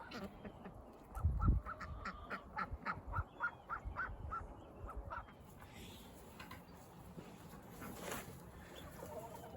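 Ducks and chickens kept together in a duck shed quack and cluck in quick, uneven bursts, with one louder close call near the start and softer scattered calls and rustling after.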